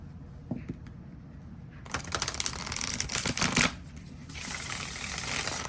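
Close crisp riffling and flapping of matte-cardstock tarot cards being shuffled, in a quick burst followed by a steadier second shuffle.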